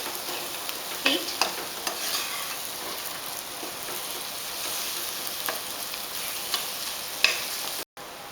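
Eggs scrambled in a frying pan over medium heat, a steady loud sizzle with occasional scraping taps of stirring throughout, close by.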